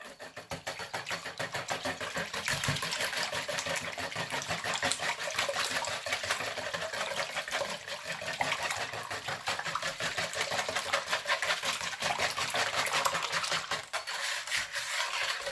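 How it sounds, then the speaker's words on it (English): Four eggs whisked by hand for bread pudding, a steady rapid scraping and clicking that runs densely and evenly throughout, close and fairly loud, with no talking. "So we're just putting in our 4 eggs. And then we will whisk."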